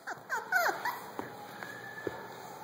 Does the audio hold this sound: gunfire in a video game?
no